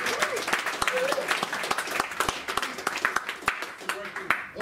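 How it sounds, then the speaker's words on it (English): An audience claps at an indoor rock and roll gig at Dingwalls, with a burst of sharp, uneven hand claps and scattered whoops from a modest crowd. "Give Leo a round of applause."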